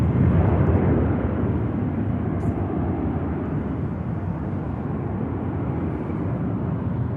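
EasyJet airliner taking off at Manchester Airport, a steady loud jet roar filling the whole stretch, strongest at the start and holding broad and even without a break.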